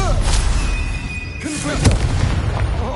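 Spell explosions from the video game Hogwarts Legacy boom in quick succession over a constant rumbling game soundscape, with heavy thuds and bursts close and loud.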